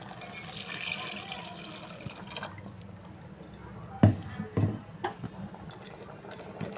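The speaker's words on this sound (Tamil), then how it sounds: "மசாலா தண்ணி கொஞ்சம் இருக்குது அது சேர்த்துக்கிறேன்" Masala water poured into a simmering egg curry, giving a soft, close trickle and dripping of liquid, followed by a few sharp clinks of utensils against the pot.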